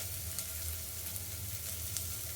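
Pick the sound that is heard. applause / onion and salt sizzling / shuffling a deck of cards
onion and salt sizzling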